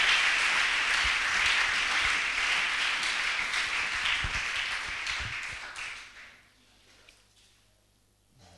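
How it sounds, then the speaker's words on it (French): A church congregation cheers and applauds loudly during a prophetic sermon, a dense sustained wash of clapping from a large crowd that fades out after about six seconds into near silence, ending with a sharp tap. "Non, acclamons très fort."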